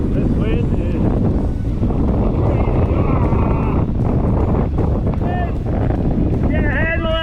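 Strong wind roars steadily and loudly across the microphone outdoors in a storm, a constant buffeting rumble, with a voice speaking briefly over it.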